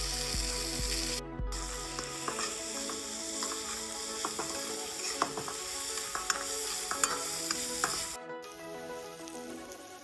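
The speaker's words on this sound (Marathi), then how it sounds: "कांदा परतला, आता हे वाटलेलं पण परतून घेऊ." Ground masala paste sautéing with onion in a pan for ambadyachi bhaji, a steady close sizzle with scraping stir strokes and occasional clinks throughout, no talk.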